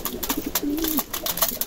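Several racing pigeons being prepared for derby laps coo softly in a loft, a low rolling coo standing out amid scattered soft clicks and wing rustles, close and fairly quiet.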